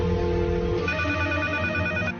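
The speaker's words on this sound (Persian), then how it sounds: "چرا با تلفن جواب نمیدهند؟" A telephone rings steadily and loudly, a continuous electronic tone that changes pitch partway through, with no voices.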